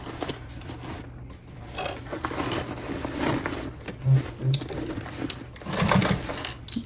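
Sewing machine stitching a tote bag, a steady close mechanical whir in continuous runs with brief pauses and a couple of small clicks, no talking.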